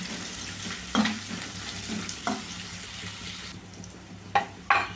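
Onions and green chillies fry in a pan for wheat rava upma with a faint, even sizzle. A few sharp utensil scrapes and taps come through while they are stirred.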